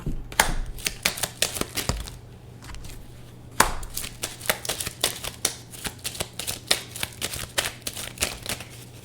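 Tarot cards are shuffled and dropped onto a surface, a run of sharp, close riffling snaps and slaps in uneven bursts, with a brief pause near the start.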